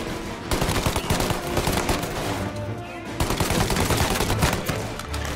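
Rapid bursts of gunfire from the video game Mafia Definitive Edition, dense and loud, with repeated shots and automatic volleys running through the whole stretch with no pause.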